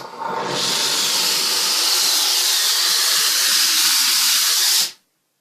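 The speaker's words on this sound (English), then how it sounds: "it says to spray the steam down the window first and then go down with the blade" Steady loud hiss of a Polti Vaporetto Eco Pro 3000 steam cleaner spraying steam onto a window for about five seconds, close and continuous, then cutting off abruptly.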